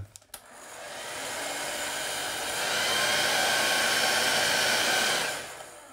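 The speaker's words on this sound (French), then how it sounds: "Si le joueur est vraiment adepte de la rapidité, je lui conseille le sèche-cheveux." A king-size hair dryer blasts air over a freshly painted miniature, a steady close whoosh that starts after a few clicks, swells slightly midway and then cuts off, with no voices.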